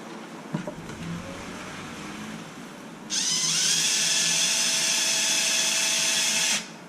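A power driver tightens bolts on a Traxxas Wide MAXX 4S RC car kit, letting out one close, loud, steady high-pitched whine for about three and a half seconds after some quiet handling noises.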